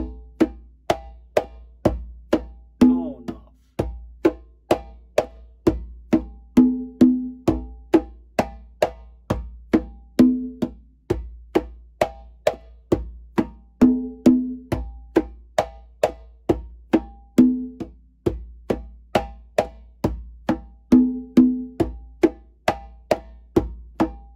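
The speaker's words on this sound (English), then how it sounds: "just by making that one small alteration from tone, tone to tone, muff, we have a very different sounding tumbao" A single conga plays a steady repeating mambo tumbao, ringing open tones alternating with short muffled strokes, crisp and close, no voices.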